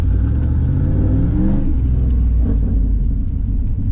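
A Camaro Z28 engine runs steadily with a deep, loud rumble, its pitch shifting slightly as if revving before settling back to a constant idle.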